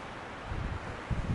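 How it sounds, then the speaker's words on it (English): Wind gusts along a hiking trail on the Pacific Crest Trail near Sierra City, a rough buffeting rumble against the microphone with rustling, strengthening toward the end, with no talking. "Bit windy to get a good shot."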